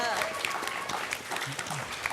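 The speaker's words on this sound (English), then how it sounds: "I think she gets a really large round of applause." A convention panel audience claps in a fairly faint, scattered round of applause, with voices murmuring and talking underneath.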